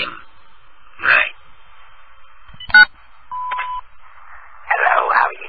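An answering machine sounds a short steady electronic beep amid a few other bleeps and tones, mixed with speech-like bursts over a thin telephone line.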